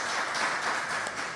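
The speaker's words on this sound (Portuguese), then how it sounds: "Irmãos, vamos aplaudir ao Senhor Jesus por essa palavra." A crowd claps steadily in a dense wash of applause at a church service, sustained and even throughout.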